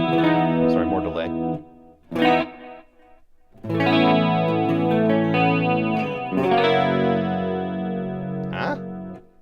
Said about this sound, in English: more repeats on a clean sound and definitely more mix